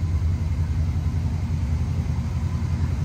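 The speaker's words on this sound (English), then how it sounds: "once you step on it, that V8 will rattle the pipes a little bit" A 1967 Ford Mustang convertible's V8 idles with a low, steady exhaust rumble close by, even and unbroken, with no voices.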